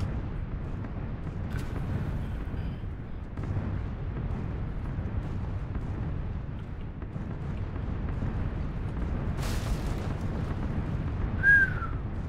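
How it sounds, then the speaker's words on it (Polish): A bomb hits a roof in PUBG as a deep, rumbling blast with a brief sharper burst, set in a steady low drone and ending with a faint whistle. "Druga bomba w dach."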